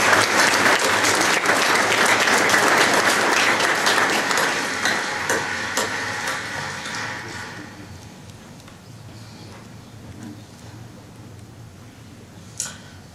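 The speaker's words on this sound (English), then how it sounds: "I think we should applaud Mia and Brian again." Mourners applauding at a memorial service at Chapman College for Holocaust survivor Leon Leyson, a loud sustained round of clapping that fades gradually over several seconds into quiet room tone, with a single sharp knock near the end.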